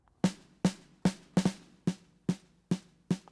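Snare drum sample with a snare-bottom microphone character, struck eight times at a steady pace, each hit a sharp crack with a short decaying rattle, heard alone.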